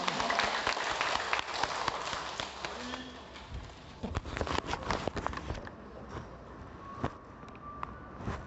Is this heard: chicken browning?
no